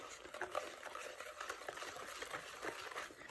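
Stirring of an ube tikoy mixture made with water, a continuous soft wet swishing with faint liquid churning, steady and close, with no talking.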